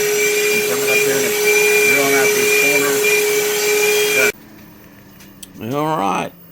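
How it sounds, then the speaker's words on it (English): Power drill boring out the corners of pine parts for a frontiersman lantern, a steady loud whine that stops abruptly partway through, followed by quieter room noise and a brief voice. "drilling out these corners"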